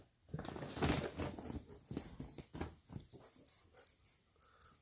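A puppy wheezes, snuffles and whimpers close by in a series of short, irregular bursts with patter between them.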